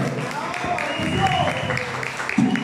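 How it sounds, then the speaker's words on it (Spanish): A birthday gathering with a youth mariachi band breaks into applause, a moderate burst of clapping heard at some distance, with a voice speaking over it. "Fuerte el aplauso, por favor,"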